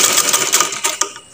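A sewing machine stitching a shirt neckband, a quick, rapid run of close mechanical clatter that ends in a single sharper knock.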